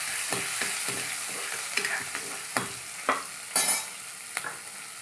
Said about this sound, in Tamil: நெக்ஸ்ட்டு பச்சை மிளகா சேர்த்துக்கிறோம்.